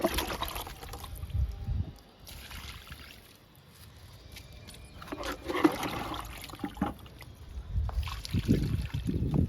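Kitchen waste liquid is poured from a container onto the soil of potted tomato plants in a few separate gurgling, splashing bursts with quieter gaps between, fairly close.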